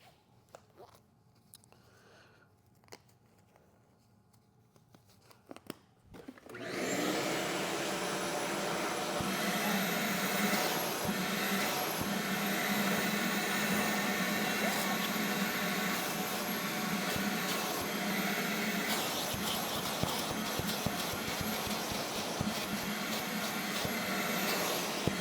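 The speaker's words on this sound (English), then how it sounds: "First, you want to start by vacuuming up all the loose bits and hair first." A vacuum cleaner switches on and runs with a loud, steady roar close by as it cleans loose debris and hair from a dirty cloth car seat.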